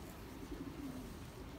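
Soft cooing of a black racing pigeon in a loft, a faint, low, rolling coo repeated a few times against quiet background noise.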